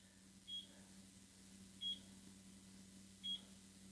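Three short electronic beeps from an air fryer being set to 375, evenly spaced about a second and a half apart over a steady low hum, fairly faint.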